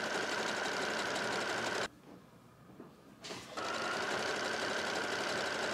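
A sewing machine runs a zigzag stitch attaching elastic to a thrifted sweater, a steady loud whir that stops briefly for a pause of about a second and a half, then resumes at full speed.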